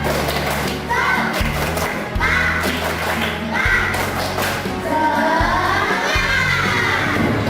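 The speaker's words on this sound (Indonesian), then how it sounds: "Tangan saya kasih petunjuk untuk tepuk semangat." Schoolchildren in an Islamic religious studies class perform a rhythmic spirit clap, tepuk semangat, with patterned claps mixed with loud chanting and shouting voices over a steady low hum, continuous and close.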